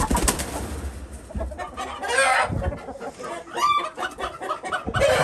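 Backyard chickens sorted into a breeding family, a rooster from last year with a black hen and several splash hens, cluck and call in a busy, close cluster of overlapping bursts that keeps going throughout.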